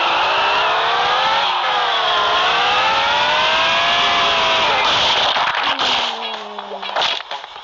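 Grandfather's tractor engine in the video game Turbo Dismount, a loud steady revving drone whose pitch rises and falls, continuing strongly before thinning out near the end with a few sharp bumps.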